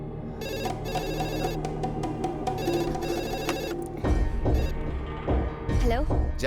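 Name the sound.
landline telephone ringing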